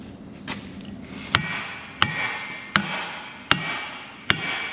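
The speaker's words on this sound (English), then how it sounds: "Need a hammer. Go get you a hammer." Five sharp metallic hammer taps ring out at an even pace about a second apart, each with a short bright ring, close and fairly loud, while fitting a blade center joint on a John Deere 450G dozer.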